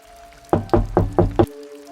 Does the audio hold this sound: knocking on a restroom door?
yes